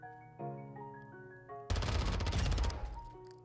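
SMG gunfire in Call of Duty MW2 erupts as a loud, dense rapid-fire burst partway through, preceded by sustained tonal music-like notes, with the burst fading into lingering ringing tones.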